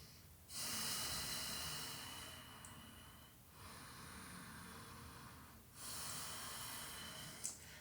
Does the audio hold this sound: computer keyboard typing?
no